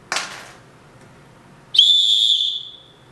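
A small emergency survival whistle gives a short puff, then a loud, piercing high blast about a second long, close up.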